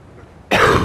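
A single sharp cough from a character in the video game Kingdom Hearts 2 Final Mix bursts in after near silence, loud and close, with no talking around it.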